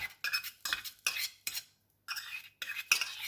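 A spoon scrapes and stirs the bottom of a pot of heating milk and cream in a series of distinct strokes, with short pauses between them and no talk.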